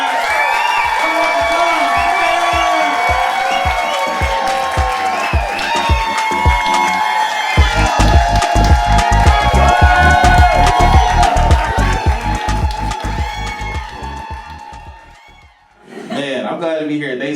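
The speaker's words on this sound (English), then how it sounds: "Start clapping right now. Give it up for him. Make some noise." A crowd cheers, whoops and applauds over loud, thumping music, with a voice shouting through it before the noise briefly drops.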